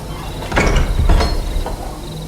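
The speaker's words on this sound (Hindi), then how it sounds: "घर के अंदर घुसते ही दरवाजा अपने आप बंद हो गया।" A door swings shut on its own inside a cartoon haunted mansion in a Hindi horror story for kids. The sound is a short sliding, creaking thud followed by a second bump, with faint eerie ambience behind and no talk.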